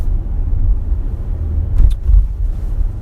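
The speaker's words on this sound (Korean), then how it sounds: "가속 페달도 이렇게 밟아보면요, 조금만 깊게 밟아도 이 킥다운, 기어 단수를 낮추면서 적극적으로 치고 나가는 맛도 살아있고요" A Mercedes-Benz GLC 300 4MATIC accelerating hard as a kickdown drops a gear. A loud, deep engine rumble rises and swells briefly in the middle, heard steadily from inside the car with no talking.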